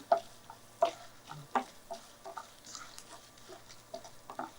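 Dry red and green chillies lightly fry in a pan while making ginger puliyodharai, giving faint scattered crackles and soft stirring knocks against a low steady hum, with no talk.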